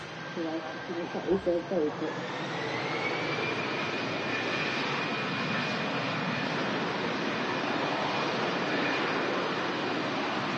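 An EasyJet airliner's jet engines spool up for takeoff at Manchester Airport, a steady, broad roar with a rising whine that swells and holds, heard at a distance after brief talk at the start.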